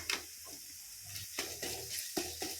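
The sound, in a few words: ginger garlic paste frying with onions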